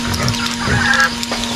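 A white broiler chicken on a backyard farm clucks in a few short, close bursts over a steady low hum, with other fowl faintly in the background.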